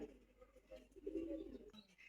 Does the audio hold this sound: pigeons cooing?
yes